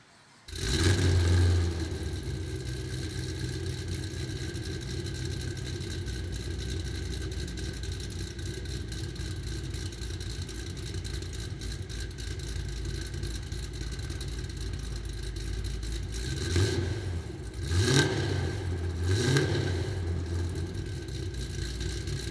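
A Whipple-supercharged 2010 Chevrolet Camaro out on the road, heard as a steady, loud engine drone with road roar throughout, swelling briefly near the end as the engine revs.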